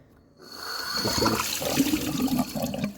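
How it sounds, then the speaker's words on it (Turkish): Spring drinking water pours steadily from an outlet, a continuous close rushing and splashing flow that starts after a brief quiet moment and carries on to the end. "Kaynak suyu akıyor buradan arkadaşlar."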